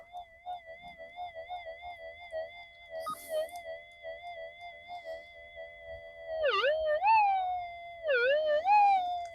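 An Algo Force 1500 plus metal detector fitted with a Coiltek coil gives a steady, warbling electronic tone that dips and swoops into a double beep as it passes over a target, loud with no talk.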